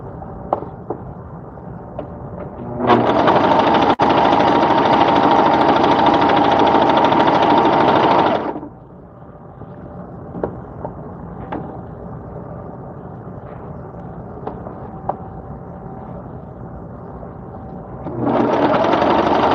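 A sewing machine runs fast and steady through a seam, stitching in two loud bursts, one lasting about six seconds and a second starting near the end, with quiet rustling and small clicks in between.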